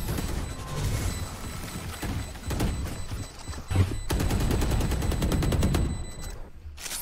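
Sustained automatic gunfire from a Valorant-style tactical shooter, dense rapid bursts and clustered shots running almost continuously, loud and close, with a high steady tone underneath and a brief heavy impact partway through.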